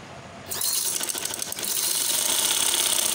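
A sewing machine stitches chocolate-colored lace onto the edge of a trouser leg, starting after a brief pause and then running in a steady, close, moderately loud mechanical whir.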